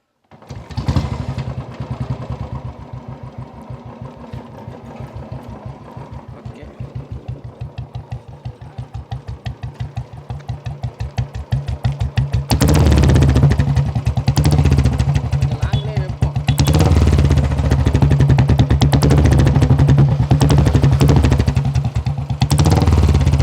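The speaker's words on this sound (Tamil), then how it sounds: "ஓகே, வண்டி ஸ்டார்ட் பண்ணுவோம்" A Royal Enfield Classic 350 motorcycle fires up close by and settles into a steady, thumping single-cylinder idle, then the revs rise to a louder, heavier throb for the rest of the stretch.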